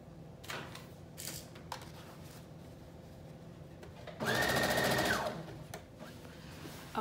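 A home sewing machine stitches the shoulder seams that join the front and back of a Simplicity 8642 flutter top, sewn right sides together. It runs in one steady whirring burst of about a second, with quiet handling sounds before and after.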